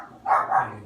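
A dog gives two quick, fairly close barks in succession, with no other sound around them.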